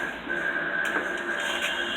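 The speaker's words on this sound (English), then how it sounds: "Meanwhile, system vacuum." A vacuum pump hums steadily while evacuating the AC system of a 2012 Honda Fit during repair. The tone is close, constant and mechanical, with no voices.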